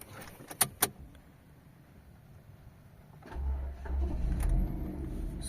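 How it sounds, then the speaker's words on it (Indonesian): A Mazda 2 hatchback is started: a couple of sharp clicks from the key and controls, a pause, then the engine catches and settles into a steady low idle close by. "selanjutnya kita coba nyalakan mobilnya"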